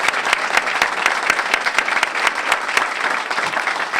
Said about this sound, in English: Let's get a round of applause for our teachers.